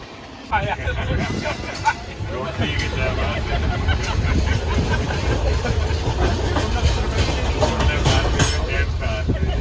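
A train runs on rails, heard from inside the carriage on a trip in Rajasthan: a steady loud rumble with rhythmic clatter and rattling continues throughout, with people talking over it.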